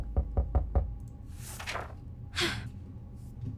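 Knocking on a door in the survival video game 60 Seconds: four quick, solid knocks in a tight even rhythm, followed by a breathy gasp and sigh-like sound effects, with no speech.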